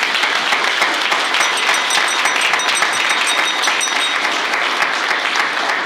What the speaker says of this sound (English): So if we could get a round of applause for our host.